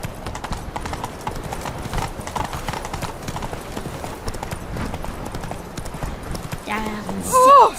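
Hooves of Geralt's horse Roach beat in a steady galloping clip-clop in The Witcher 3, with a rider's voice over it and a brief horse whinny near the end.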